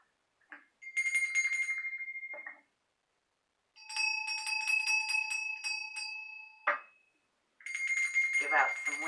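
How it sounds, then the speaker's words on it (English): Bells ring in three bright, sustained bursts separated by silent gaps, each with clear ringing overtones and a sharp strike at the start of the third. "Ring them bells."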